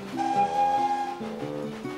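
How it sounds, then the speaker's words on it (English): A steam engine's whistle from Thomas & Friends sounds as a tuned, musical tone with several shifting pitches, sustained across two seconds against a soft background. "Steam engines have whistles that sound like this."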